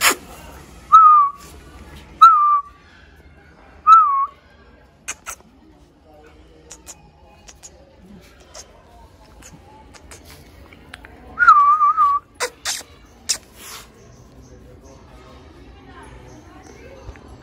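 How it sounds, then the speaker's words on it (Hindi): A person whistles several short rising-and-falling notes in bursts, spaced apart, with a further cluster of whistles later, over a quiet room with faint background noise and occasional clicks. "मैं देखो एक सीटी मारूंगा देखो पूछ लेंगी।"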